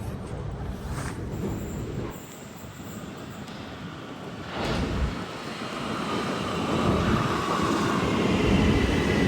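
A low, steady rumble swells as a U-Bahn metro train rolls into an underground station in Munich, growing louder and rougher toward the end, echoing in the enclosed space.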